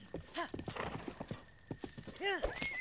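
Horse in the video game Zelda Breath of the Wild, with steady clip-clop hoofbeats and a couple of sharp whinnies near the end, mixed with game music and a voice talking over it.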